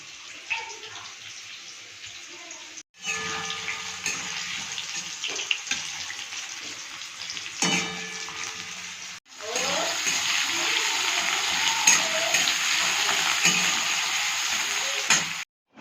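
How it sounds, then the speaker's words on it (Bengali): Onion frying for a chicken dish in a home kitchen, a steady broadband sizzle that cuts out briefly twice and then returns louder and denser, with faint clinks from other pans and no speech over it. "আর এখানে আমি চিকেনের পেঁয়াজটা ভাজছি।"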